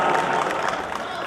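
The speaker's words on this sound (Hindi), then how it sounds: "जोरदार तालियां बजाएं" A crowd at a devotional night jagran in Hisar claps and cheers to welcome young singers, a steady dense wash of applause that stays loud throughout.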